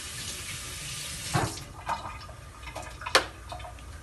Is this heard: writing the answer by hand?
no